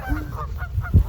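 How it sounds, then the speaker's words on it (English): Waterfowl near a pond honking, goose-like calls in a short quick series of nasal honks at close range, ending on one louder honk. "why are all the ducks coming over here?"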